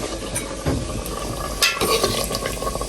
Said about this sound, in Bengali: মাংসটা গরম দিচ্ছি, রুটি দিয়ে খাবো।